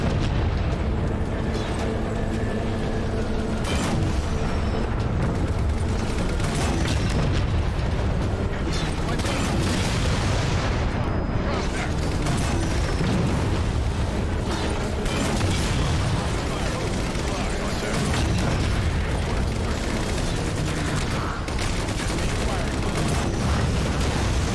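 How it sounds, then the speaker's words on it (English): Plasma mortar shots from a Wraith tank in the video game Halo 4 burst in a dense, continuous roar of rumbling blasts and crackling impacts that keeps going without a break. "that was like the worst plasma fall from a Wraith I've ever seen"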